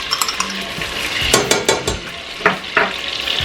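Garlic sizzles in a hot pan for a linguine sauce with steady frying crackle, broken by several loud stirring scrapes and utensil clinks against the pan.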